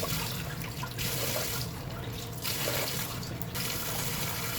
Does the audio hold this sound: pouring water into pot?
yes